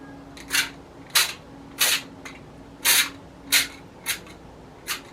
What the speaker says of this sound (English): I'm going to spray the crisper tray with some olive oil.